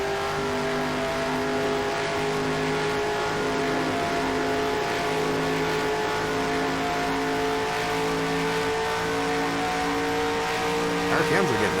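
A race car engine in NASCAR Racing 2003 holds a loud, steady drone with layered tones throughout, rising in pitch near the end as the revs climb.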